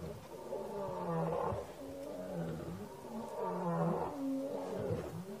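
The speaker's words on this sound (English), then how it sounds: "So these male lions are running in here. They've obviously heard this buffalo dying." Male lions roar and grunt nearby on a safari reserve where a buffalo lies dying, deep rumbling calls rising and falling in two long swells with lower grunts between them.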